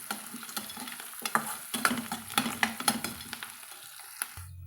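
A spoon stirs turmeric powder into hot oil and onions in a pan, giving a run of irregular scraping clicks and taps over a soft sizzle, close and fairly loud, with no voices.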